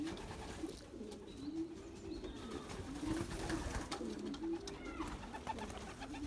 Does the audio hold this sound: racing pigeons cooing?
yes